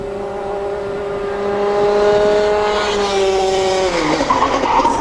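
A race car's tyres squeal loudly on track in a long, sustained screech with the engine droning underneath, wavering and breaking up toward the end.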